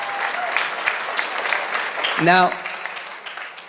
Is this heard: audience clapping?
yes